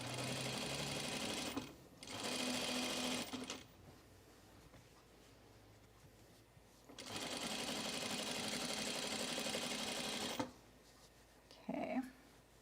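A home sewing machine stitching a button placket on a garment whirs in two steady, close runs, each a few seconds long, with quiet pauses and a brief clatter near the end.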